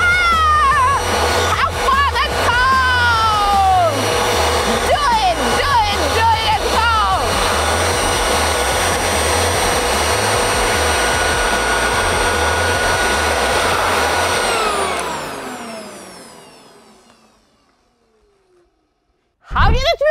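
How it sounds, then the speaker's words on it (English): A leaf blower roars steadily, blowing air over a roll of toilet paper, loud and close for about fifteen seconds before winding down to silence, with people talking and exclaiming over the rushing air. "With my leaf blower, I created high speed of the airflow above the toilet paper."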